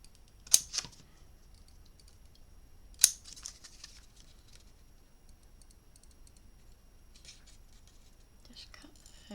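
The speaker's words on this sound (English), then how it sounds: "now I'm going to just cut." Scissors cut paper for a handmade farm-themed mini album, two sharp snips close by with quieter rustling and faint clicks between them, and a soft voice in the background.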